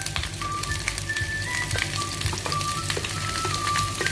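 Chicken feet sautéing in a pan for adobo give a steady, close crackling sizzle with scattered pops and a faint high whine running through it, continuous and alone.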